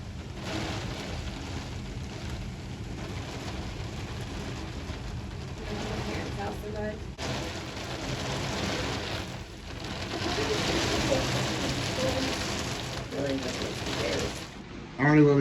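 Heavy storm wind and rain roaring steadily throughout, swelling in strength toward the end, with a few faint voices underneath.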